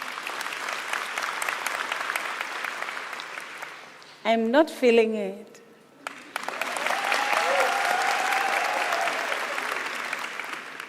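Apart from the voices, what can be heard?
audience applause at graduation ceremony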